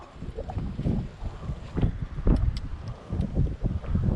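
Strong gusty wind buffets the microphone outdoors during a village pigeon hunt, producing loud irregular low thumps and rushing bursts with no voices.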